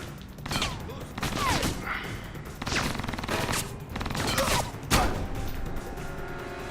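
Video game gunfire in Alpha Protocol comes as several loud bursts of shots and impacts, spaced about a second apart, over a busy background of game noise and effects.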